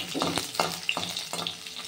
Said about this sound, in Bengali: রসুনটা আমি একটু লাল লাল করে ভেজে নেব